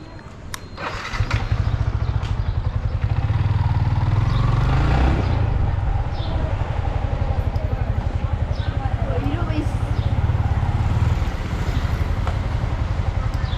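A Yamaha MT15 motorcycle engine starts and settles into a loud, steady, throbbing idle right up close, pulsing evenly for several seconds before easing off, with a voice talking over it.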